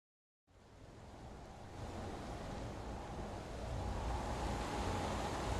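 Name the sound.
wind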